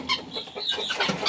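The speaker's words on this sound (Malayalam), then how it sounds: "അതെ നമ്മുടെ കിനിക്കോഴിയാണേ." A guinea fowl on a farmyard with ducks and hens gives a quick, nearby series of harsh, choppy clucking calls.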